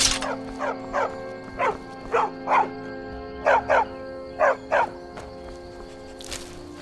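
Stray dog barking in the Skyrim video game, about ten short clear barks in an uneven series over a steady low hum, fairly close and moderately loud.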